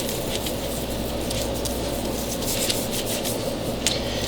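Hands rubbing a dry steak rub and Creole seasoning into raw lamb, a loud, continuous, close-up rough rubbing and scraping texture that stays steady throughout with no talking.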